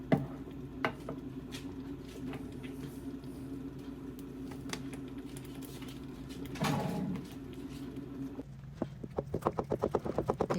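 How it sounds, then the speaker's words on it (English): Thick tuo zaafi porridge of cassava flour being stirred in a pot, a steady scraping and slapping churn that runs continuously, with a denser burst partway through and quicker rhythmic strokes near the end. "just stirring the food, making sure it doesn't have any lumps"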